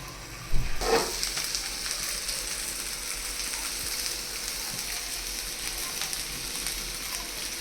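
Vegetables sautéing in a pan for kothu chapati, a steady close sizzle that starts with a sudden burst as they hit the hot oil, then keeps crackling evenly.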